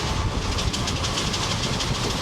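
A train on the Pondicherry to Vijayawada route rolls along with a steady, loud rumble and a rhythmic clickety-clack of wheels over rail joints, continuous throughout with no talking.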